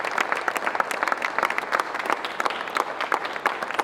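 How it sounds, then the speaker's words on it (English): Steady applause from an awards ceremony audience as a guest walks on stage, individual claps clearly audible in a moderately loud, continuous patter. "Let's give her a warm round of applause as she comes on stage."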